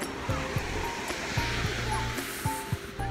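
Waves wash in at Freedom Beach in Phuket, a steady close surf hiss with faint voices nearby and a few brief knocks over the rush of water.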